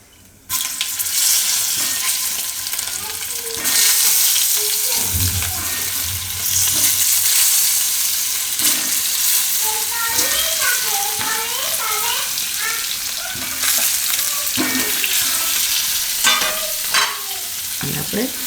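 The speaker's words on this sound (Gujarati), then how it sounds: "તો તેલ આપણું ગરમ થઈ ગયું છે, તો એમાં આપણે થોડીક નાખીશું હિંગ અને આ બાફેલા બટેટા." Boiled potatoes and asafoetida frying in hot oil, a steady loud sizzle with intermittent scraping and stirring clatter throughout.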